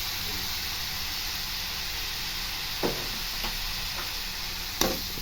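Ground beetroot paste with salt is stirred in a pan for beetroot rice, a soft steady sizzle under faint spoon scrapes and a few sharp clinks against the pan.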